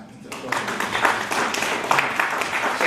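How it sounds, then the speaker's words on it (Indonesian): A congregation at a church prayer service in Surabaya breaks into continuous applause, a dense wash of clapping that starts abruptly and holds steady at moderate loudness, with voices mixed in beneath. "Tepuk tangan."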